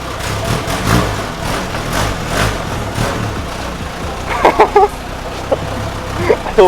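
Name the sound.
1964 MG Midget classic car engine running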